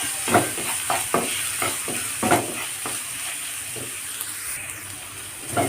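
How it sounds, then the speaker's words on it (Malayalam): Two sliced onions sauté in hot oil in a pan, giving a steady close sizzle with scraping stirs of a spoon and brief splashy bursts near the start. "ഇനി ഇതിലേക്ക് സവോളയാണ് ഇട്ട് ഇട്ട് കൊടുക്കുന്നത് രണ്ട് സവോളയാണ് ഇട്ടാണ് ഞാൻ എടുത്തിട്ടുള്ളത് നന്നായിട്ടൊന്ന് വഴറ്റി കൊടുക്കാം"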